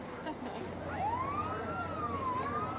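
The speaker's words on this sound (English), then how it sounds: "We can hear the sirens off in a distance." A siren wails far off at the start of a small-town parade, rising and falling faintly under a dull outdoor background hum.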